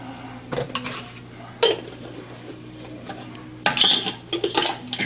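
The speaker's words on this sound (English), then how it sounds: "Put your lids on." Metal lids clatter and clink onto glass canning jars while sauerkraut is put up, in a few separate bursts of kitchen clanking with quiet pauses between.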